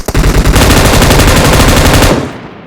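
Rapid automatic gunfire in PUBG on the Erangel map, a loud, dense burst of shots running continuously for about two seconds and then cutting off, with no talk.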